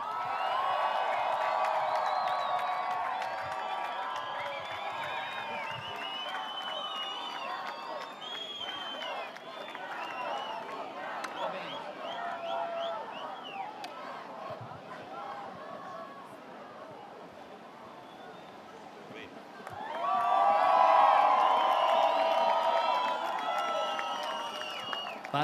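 A crowd at the Saquarema surf contest in Brazil cheers and claps for runner-up Yago Dora, a broad roar of voices that swells loudly near the end, with an announcer's voice mixed in.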